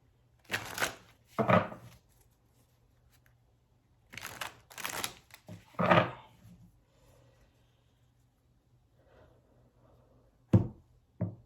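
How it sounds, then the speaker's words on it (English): Tarot cards are shuffled in several crisp, riffling bursts separated by quiet pauses, close and fairly loud, with a faint low hum underneath. "I'm gonna do 3 more shuffles."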